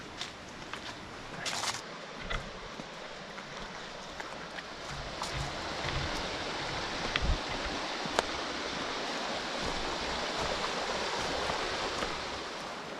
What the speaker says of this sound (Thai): เนี่ยระหว่างทางที่เราไปแล้วมีน้ำตกด้วย